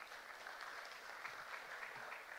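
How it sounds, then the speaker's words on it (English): A crowd applauds the leadership team at a university event, a steady wash of clapping that stays even and moderately distant throughout. "Can we have a round of applause for the leadership team"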